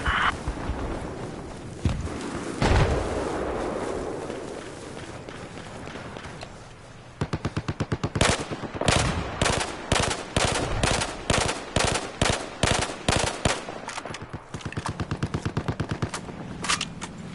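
Rifle and machine gun fire in a video game, including a Belgian rifle: rumbling battle noise at first, then a long run of evenly spaced, sharp, loud shots in rapid rhythmic succession, close up.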